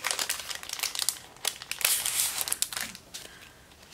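Crinkling and crushing of a Jane Davenport washi tape holder's plastic packaging as it is opened, close and busy, with irregular bursts of rustling throughout.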